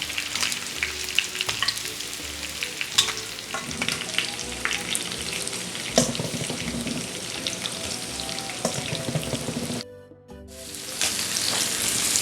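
Pheasant pieces fry and brown in a pan, giving a steady close sizzle with crackles and stirring scrapes that drops out briefly before resuming.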